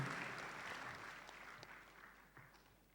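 An audience at a graduation ceremony for Akademi Teknologi Warga Surakarta gives the best graduate a round of applause, soft and distant, steady clapping that gradually fades over a few seconds.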